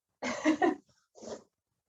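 Coughs break out during a Pilates class: a harsh burst of two or three rapid coughs, then a short gap and one more cough, close and alone with no talk.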